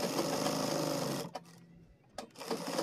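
A sewing machine stitches a trouser fly, running in a fast continuous rattle, then stopping abruptly with a couple of brief clicks before starting up again, close and clear.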